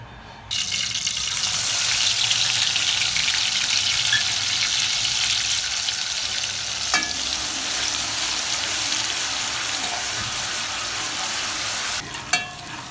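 Onion and a ginger-garlic-coriander paste fry in a pan for a chicken dish, giving a loud, steady sizzle that fills the whole stretch, with a brief clatter near the start and again near the end.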